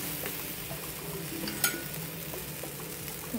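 A moong dal chilla flipped over in a pan, a continuous close sizzle with a short scrape of a spatula partway through, no talking.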